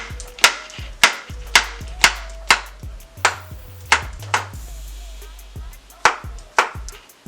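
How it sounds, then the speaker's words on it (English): Mushrooms, stems pulled, being chopped with a knife on a cutting board for a vegan dish, a steady series of sharp close knife strikes with a short pause partway, no talking. "I just kind of pull the stems out and I start chopping"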